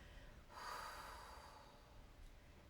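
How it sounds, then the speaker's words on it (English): A single deep exhale during a guided breathing exercise, a soft broad breathy rush that swells, holds for about a second and a half, then fades into quiet room tone. "take those deep breaths in"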